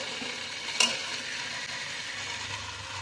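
Cooked rice is mixed with idli powder and ivy gourd in a pan, giving a soft stirring scrape and low sizzle, with one sharp clink of the utensil against the pan.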